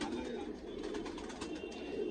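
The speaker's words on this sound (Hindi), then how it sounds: "ये जोड़ वाले कबूतर, जिनसे हमारे फराज भाई के बच्चे उड़ते हैं" Pair-bred fancy pigeons kept by a long-time Hasanpur pigeon keeper coo softly and continuously, the low murmuring calls faint and steady throughout.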